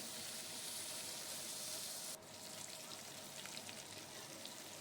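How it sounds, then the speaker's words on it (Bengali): Peeled taro (kochu mukhi) pieces fry in a pan until reddish-brown for a Bengali-style vegetarian curry. A steady, soft, close sizzle hisses on without pause. "একটু ভালো করেই ভাজবো লাল লাল করে"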